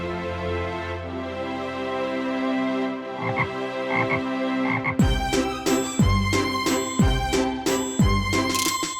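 A frog croaks in an animated children's telling of The Frog Prince. Several loud, rhythmic croaks repeat over soft background music.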